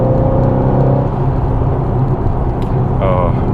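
A Mercedes-Benz AMG GT V8 engine and exhaust rumble in a steady, deep drone during a drive, with a voice talking over the continuous loud engine note.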